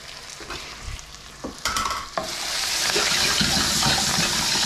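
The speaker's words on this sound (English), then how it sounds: "You get it in there, just saute it lightly until it's fragrant." Garlic sautés in a skillet, starting with scattered knocks and clatters of the pan before a steady, loud, close sizzle settles in.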